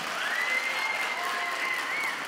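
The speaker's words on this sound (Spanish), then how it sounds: "Un aplauso fuerte del corazón." Studio audience applause for guest Micaela Monet on a Spanish-language TV comedy show: steady, dense clapping held at an even level throughout, with a faint tonal whistle-like line running above it.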